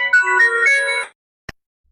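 A short electronic phone ringtone melody plays loudly for about a second, then stops, followed by a brief click and silence.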